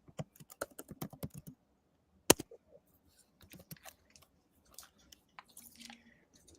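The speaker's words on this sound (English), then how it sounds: "Somebody's typing. That's me." Someone types on a computer keyboard in quick clusters of sharp clicks, with one louder key strike partway through, followed by sparser, fainter taps in a quiet room.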